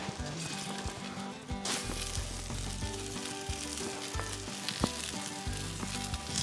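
Venison meatballs frying in canola oil in a pan, giving a steady loud sizzle and crackle throughout with occasional pops and clinks of stirring, no voices.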